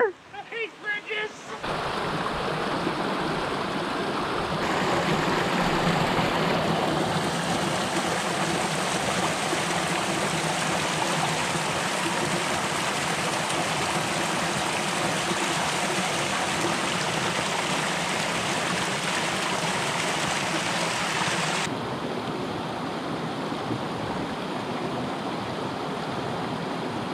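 A stream flows beneath a bridge on the Cross Vermont Trail, a steady, loud broadband rush of water filling the whole stretch, with brief voices near the start.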